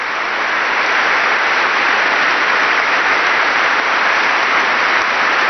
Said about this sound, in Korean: 그러나 박수는 계속 이어졌고